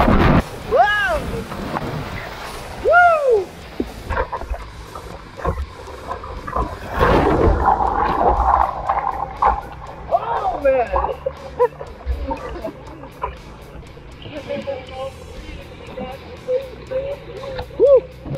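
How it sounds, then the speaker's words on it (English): Kayak running Class 2 to 3 whitewater rapids on the Upper Kettle River, with rushing water and wind buffeting the microphone, and a voice speaking over it near the start. "There are some rapids here."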